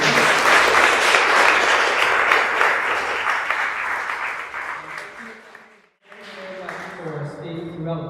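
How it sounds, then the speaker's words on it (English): An audience at an artist talk on printing applauds the artists, producing a dense wash of clapping that fades out. A voice begins speaking right after the applause dies down. "So can we all please give another round of applause to the artists"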